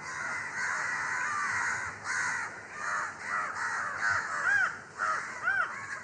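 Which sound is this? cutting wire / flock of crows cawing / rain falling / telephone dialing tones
flock of crows cawing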